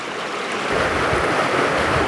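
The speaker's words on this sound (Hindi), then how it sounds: "बड़ा ही साफ और शफाफ पानी पत्थरों पे बहता हुआ आ रहा" Clear water runs over stones in a stream near Khuna village, Samahni, a steady broadband rush that stays close, fairly loud and continuous throughout, with a light breeze mixed in and no voices.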